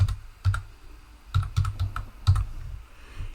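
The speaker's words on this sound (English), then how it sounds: "Use the tab key to go to the next one and type in Thursday." Keys tapped on a computer keyboard while entering calendar text in a document editor, a few separate clusters of close, crisp clicks with pauses between.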